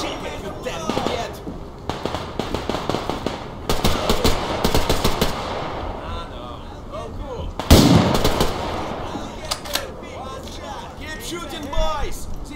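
Video game Survarium gunfire comes in rapid automatic bursts and single cracks, loud and close, with shouted chatter from players talking over and between the volleys.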